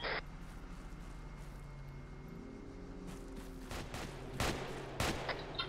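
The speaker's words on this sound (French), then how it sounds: "il a tiré sur le collègue" Gunfire during a police role-play video game, starting quiet with a low hum and tones, then several sharp loud shots cracking out in quick succession toward the end, no talking.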